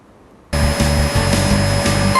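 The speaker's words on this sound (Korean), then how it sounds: "진공 청소기 소음" A vacuum cleaner switches on abruptly after a moment of near silence, then runs with a loud, steady whine and motor hum.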